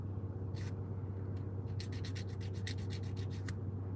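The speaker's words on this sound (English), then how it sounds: "I'm filing my nails" Fingernails being filed with a nail file while seated in a Starbucks, a run of quick rasping strokes in the second half over steady low café hum, one brief stroke earlier.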